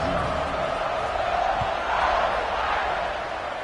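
Broad, steady roar of a stadium crowd cheering at kickoff in a college football video game, Kansas versus ranked Notre Dame, a dense continuous wash of voices swelling slightly midway.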